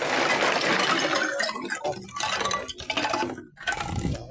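Water poured from a container at a small sari-sari store, a steady liquid splashing and filling sound with faint clinks, running in uneven bursts with brief pauses.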